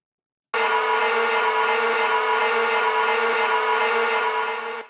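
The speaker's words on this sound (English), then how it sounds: "I managed to find a sample of dry ice being scraped on metal." Dry ice scraped across metal, used as a sci-fi spaceship engine layer: a loud, sustained metallic screech with a dense harsh hum that starts abruptly after a short silence and holds steady for several seconds.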